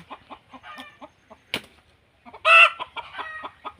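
A hen gives short, close clucks in an uneven rhythm, then one loud, harsh squawk before the clucking resumes.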